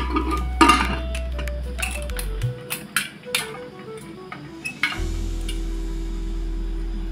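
Popcorn pops inside a covered pressure cooker, sharp scattered cracks at an irregular pace, some loud and some faint, over a steady low hum from the stove.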